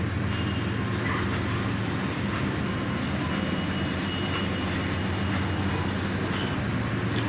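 Continuous low rumbling video game train noise with a steady mechanical drone and faint clatter, unbroken throughout and fairly loud.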